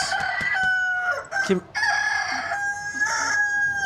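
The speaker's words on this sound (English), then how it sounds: "Oh, chicken." A rooster crows loudly nearby, its drawn-out call repeating, with clucking chickens and other fowl around it.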